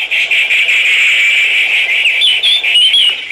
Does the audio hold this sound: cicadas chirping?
yes